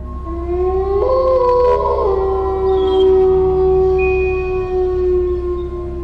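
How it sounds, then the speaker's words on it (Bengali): Dogs and jackals howl at night in a long, drawn-out, wavering chorus, several sustained tones overlapping loudly with no pause throughout. "কতগুলো কুকুর যেন এক নাগারে ডেকেই চলেছে।"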